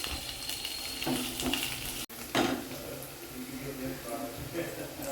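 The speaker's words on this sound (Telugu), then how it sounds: "నూనె వేడెక్కిందండి. ఉల్లిపాయలు వేసుకుంటున్నాను, అలాగే కరివేపాకు." Onions and curry leaves fry in hot oil for a tindora and chana dal curry, giving a soft steady sizzle with a brief pan clatter and a burst of spattering, while a voice talks quietly over it.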